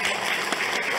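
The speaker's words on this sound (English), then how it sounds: "Everyone, please give Colin like the biggest applause." Conference audience applauding a newly elected working group chair, a dense wash of clapping filling the whole brief moment, steady and fairly loud.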